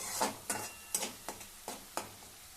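Ginger garlic paste sautéing in hot oil in a pan for village-style egg curry, stirred with about six rhythmic scraping strokes that ring out close and clear over a soft sizzle, with no voices.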